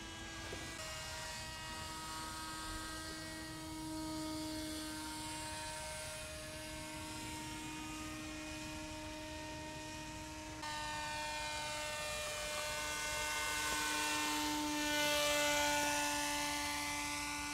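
A small RC paramotor motor and propeller runs at full throttle during a climb, giving a steady, loud, high-pitched buzzing whine that holds throughout and swells slightly louder near the end, with no talking.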